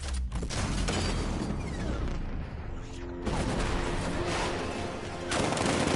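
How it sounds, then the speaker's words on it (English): Heavy bursts of cannon fire from the Batmobile's 60mm tank cannon in the Batman Arkham Knight video game, loud repeated blasts and booms filling the whole span with dense explosive noise. "60mm cannon operational."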